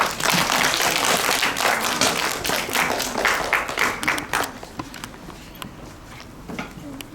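A crowd applauds loudly and steadily to welcome a student speaker at a primary school event, then the clapping thins out and fades into scattered claps.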